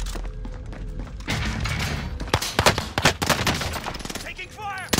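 Dense gunfire in the Call of Duty: Modern Warfare video game, a sustained barrage of rapid shots and thuds with bursts of automatic fire, loud and close, with faint talk underneath.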